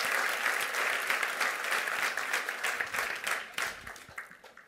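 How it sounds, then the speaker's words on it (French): A hall audience at a 2024 New Year's wishes ceremony bursts into loud, dense applause that tapers off over several seconds. "Vos applaudissements."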